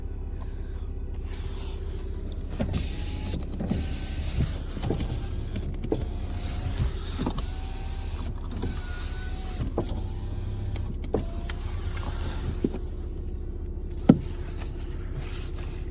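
An electric side mirror on a Volkswagen Passat B7 2.0 TDI DSG adjusts with faint, short motor whirs. They sit over a steady low cabin hum, with a sharper click near the end.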